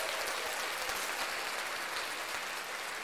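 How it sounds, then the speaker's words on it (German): Steady crowd-style applause fills the whole stretch, a dense even wash of clapping at moderate level with no voices over it, given as a cheer for a driver returning to an Indycar sim race at Long Beach. "Kleiner Applaus für den Knut."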